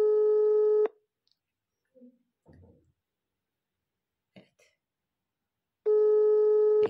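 Outgoing call on a phone-in radio program, with a steady repeating ringback tone: two long loud tone bursts at the start and end separated by a quiet gap holding faint clicks and brief speech.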